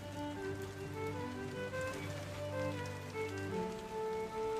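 Heavy rain pours down steadily on a forest house, a dense continuous hiss under a layer of sustained musical tones, with no voices.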